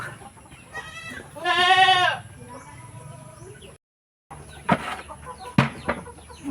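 Chickens on a small Philippine farm that also keeps Muscovy ducks are given water. Scattered clucks and short calls are heard, one loud drawn-out bleating cry stands out, and faint voices and thumps come after a brief silence.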